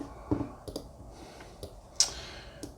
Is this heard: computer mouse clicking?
yes